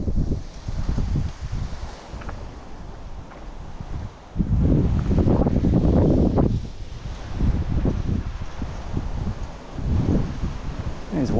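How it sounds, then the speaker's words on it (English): Strong gusty wind on a suburban street, buffeting the microphone in loud roaring surges that rise and fall, with rustling in between. "It's too windy."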